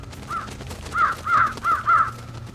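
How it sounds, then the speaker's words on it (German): A flock of crows in the video game Trüberbrook gives a quick series of five harsh caws. The first is softer, and the rest are louder, bunched close together and evenly spaced. "Ihr Vögel, kommt!"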